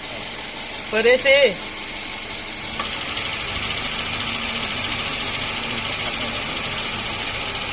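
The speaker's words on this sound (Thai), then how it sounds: "เสียงเครื่องยนต์เปล่าๆไม่ได้เปิดแอร์" A Toyota Wish engine idles with a steady low hum, air conditioning off, while a brief voice speaks near the start.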